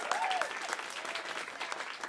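An audience at a storytelling show applauds in a steady, dense patter of clapping that carries on without a break.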